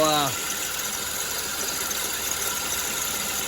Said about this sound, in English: you can see the clutch is partially spinning there